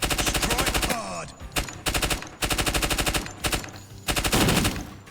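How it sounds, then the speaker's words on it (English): Automatic weapon fire from the tactical shooter Door Kickers 2, loud sustained bursts cut by short pauses and one closing burst, with no talking. "Like, I literally don't know where that gunfire is coming from."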